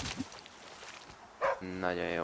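A dog barks in The Flame in the Flood video game, a few short yaps rising over a voice that talks through the short clip.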